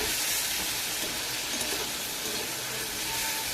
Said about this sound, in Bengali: চিকেনটা দিয়ে আমি নাড়াচাড়া করে নিচ্ছি চিকেনটাও ভাজা হয়ে যাবে